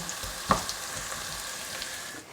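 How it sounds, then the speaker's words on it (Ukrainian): Chopped peppers fry with carrot and onion in a pan, giving a steady close sizzle with a sharp clink of a utensil near the start and a few soft stirring taps. "Морква з цибули трохи піджарилися, можна викладати перець. І ще трішки обжаримо."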